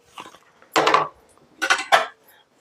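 A metal lid placed over a pan where cumin and asafoetida temper in oil, with a few clattering metallic clinks and scrapes in short bursts close by.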